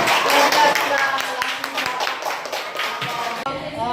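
A classroom group claps together, a dense burst of hand claps that thins out after a few seconds, with voices talking underneath.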